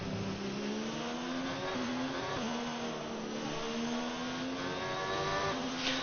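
Formula 1 race car engine in a racing video game, a steady high-pitched whine holding a sustained drone throughout with slight pitch shifts as it runs, loud and continuous without speech.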